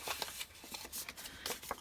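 Scored cardstock being folded for a belly band folio, a quiet close series of crisp papery creases and soft rustles coming in irregular bursts.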